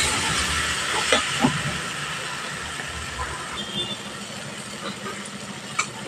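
A Bengali spice paste with tomato fries in oil for a katla fish curry. It gives a continuous, fairly soft sizzling hiss with a few small pops and crackles.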